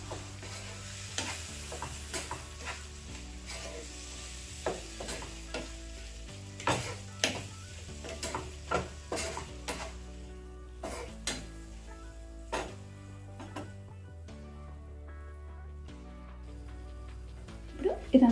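Green apple pickle with vinegar being stirred in a pan off the heat, a soft sizzle under repeated scraping and clinking strokes of a spoon against the pan, with background music playing throughout.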